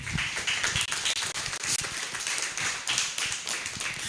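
Audience applause at a township film festival, a dense, steady wash of many hands clapping together that holds for several seconds at moderate distance, with no voices over it.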